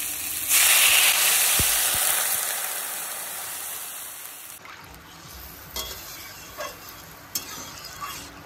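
Taro curry in a pan bursts into a loud, steady sizzle and steamy hiss as water goes in, then settles into a softer bubbling with scattered light clinks of stirring.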